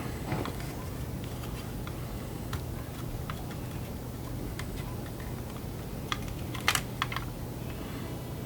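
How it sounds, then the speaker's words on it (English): Keys being pried out of a damaged speed editor keyboard: sparse plastic clicks and ticks over a quiet room hum, with a small cluster of sharper snaps toward the end, close up and alone. "Okay, so all the keys come out with that"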